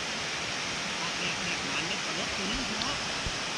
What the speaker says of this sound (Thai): บรรยากาศเสียงน้ำพี่น้องจวบจวบอยู่นะ